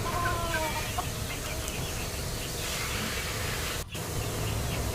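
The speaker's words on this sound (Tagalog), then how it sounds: "Tapos ito yung isa nating pinalahi na itim na sisiw." Chickens and black chicks at a poultry breeding setup, with soft clucks and chirps scattered over steady background noise, no talking.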